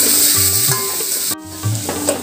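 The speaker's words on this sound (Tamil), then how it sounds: "கேரட்டும் போட்டுடலாம், குடம் மிளகா எல்லாத்தையும் சேர்த்து ஒரு 5 நிமிஷம் வதக்கிக்குவோம்." Sliced carrot and capsicum sauté in a hot pan, a steady bright sizzle with a spatula scraping and stirring through the vegetables, one brief break midway.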